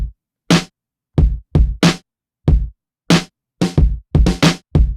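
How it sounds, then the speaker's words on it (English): A neo-soul drum pattern of layered kick and snare samples plays alone, with deep, tight kicks alternating with crisp, punchy snare hits in a loose, syncopated groove, every hit close and dry with silence between. "So altogether, my kicks and snares sound like this."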